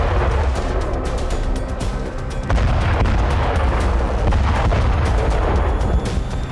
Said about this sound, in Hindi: उत्तरी गाजा इजराइल की बमबारी से दहल रहा है।